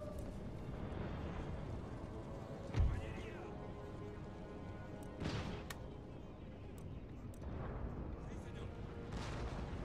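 Cannons and howitzers fire during a Spanish army battle in Empire: Total War, with a few deep, distant booms rising out of a low battle din, and someone talking over it.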